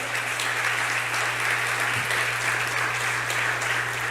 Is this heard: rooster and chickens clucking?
no